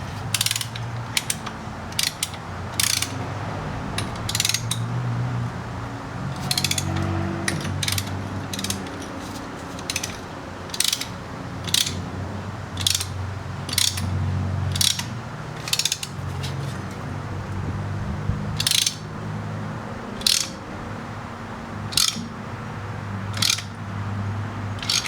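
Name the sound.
Lang caliper piston compressor tool on Chevy Silverado brakes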